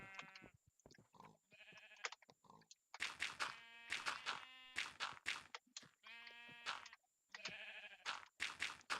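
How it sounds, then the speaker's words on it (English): Sheep bleat repeatedly in the Minecraft game, loud and close. The calls are harmonic and layered over one another, with several animals calling in quick succession and brief gaps between the calls. "I'm definitely hearing the sheep."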